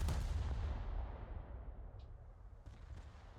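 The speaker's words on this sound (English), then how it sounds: "Fire another full broadside." Full broadside from the USS Pensacola in a naval video game: one heavy booming salvo at the start, then a rumbling fade broken by a couple of faint distant reports.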